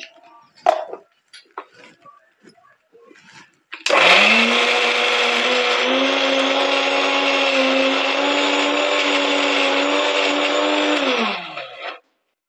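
An electric blender grinds soaked soybeans for soya chaap, starting abruptly after a few soft handling knocks and running as a loud, steady whirring drone for about seven seconds before winding down.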